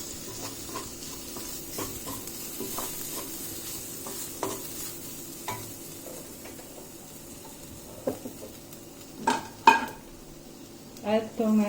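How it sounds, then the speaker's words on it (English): Ingredients for kadai paneer sizzle in a pan while being stirred, with soft frying hiss under repeated scrapes and clinks of a utensil against the metal, growing louder and busier toward the end. "Saute until their raw flavor will get released."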